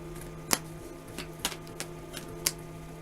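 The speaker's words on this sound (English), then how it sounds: "now that you've seen me shuffle" Tarot cards are shuffled in a quiet room, giving a few sharp riffling snaps spaced irregularly, close and fairly soft over a low steady hum.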